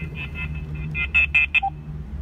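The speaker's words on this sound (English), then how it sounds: "Phone is just ringing." A phone rings nearby in a workshop where a Toyota ignition cylinder is being worked on, with short electronic ringing bursts in quick succession over a low steady background hum.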